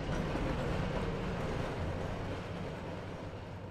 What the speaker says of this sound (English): Is that a train going past?